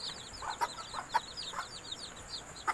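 Malaysian Serama chicks peep in quick, high, overlapping chirps, close and steady, with a few soft clucks from an adult hen mixed in.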